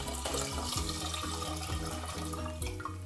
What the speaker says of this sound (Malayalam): ഇനി നമുക്കിതിലേക്ക് വെള്ളം ചേർക്കാം